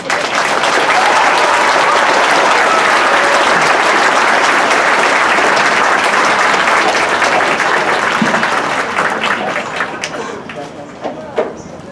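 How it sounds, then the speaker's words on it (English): Large audience applauding a company staff at a Marine recruit graduation ceremony at MCRD, loud sustained clapping from a big crowd in open air that holds steady, then thins and fades toward the end. "please join me in a round of applause for the company staff of Company F"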